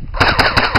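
Thompson M1A1 airsoft replica from Cybergun firing a short full-auto burst, a rapid chattering string of about six sharp snaps, loud and close with no talking.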